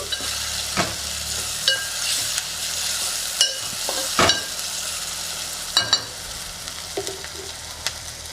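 Tomatoes fry in a pan for egg curry, a constant sizzle broken by scraping stirs and clinks of a spoon on the pan at irregular intervals, close and clear, with no speech.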